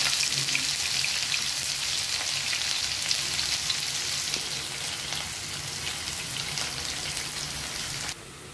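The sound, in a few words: onions frying in oil with cinnamon and black peppercorns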